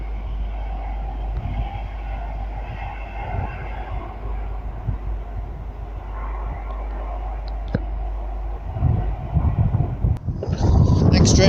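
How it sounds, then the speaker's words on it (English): A Cross Country passenger service from Plymouth to Edinburgh passes through Northallerton station, first a low steady rumble with faint rail squeals, then a loud rushing roar as the train sweeps close by near the end. "Next service to pass through is Cross Country service from Plymouth to Edinburgh"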